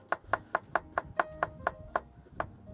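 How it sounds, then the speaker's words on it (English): Knife finely slicing a peeled red onion with the root removed, about ten crisp, evenly spaced cuts against a board in quick rhythm, close and clear with no talking. "we're just going to finely slice the red onion"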